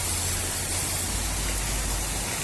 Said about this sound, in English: Rinse it out from the clean to the dirty side with low pressure cool water.